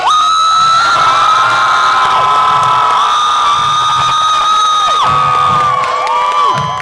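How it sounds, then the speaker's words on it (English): A large crowd at a Renaissance Festival cheers and whoops loudly for their champion, with children's shrill shouts rising and falling in waves over several seconds of sustained noise. "Good people, lift your voices for your champion!"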